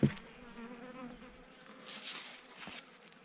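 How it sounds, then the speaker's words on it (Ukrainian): Honeybees buzz at a beehive at an apiary in spring, a continuous droning hum close by that swells and fades slightly, opening with a brief knock. "бджолки сидять спокійно."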